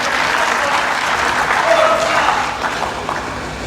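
An audience at an inaugural university lecture breaks into sustained applause, a dense, steady roar of clapping that holds at full strength before easing slightly toward the end.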